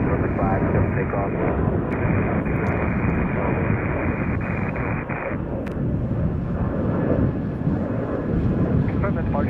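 A jet aircraft takes off from Chicago O'Hare airport, its loud, steady engine roar filling the whole span with broadband rumble and wind buffeting on the microphone.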